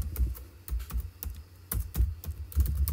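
Computer keyboard typing, irregular clusters of close, crisp key clicks and thumps in quick bursts with short pauses between, no talking.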